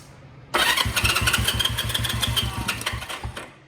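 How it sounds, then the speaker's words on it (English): A Honda CB350 or CL350 twin motorcycle engine, warmed up, cranks and catches, then settles into a loud, steady, pulsing idle close by, with a rapid regular thump. "What I'm gonna do is start the bike, okay?"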